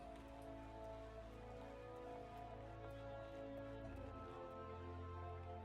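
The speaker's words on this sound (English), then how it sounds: "Ugh, rain." Steady rain falls in the Final Fantasy XIV game world, a soft continuous patter heard alongside a sustained musical score, with no voices during the stretch.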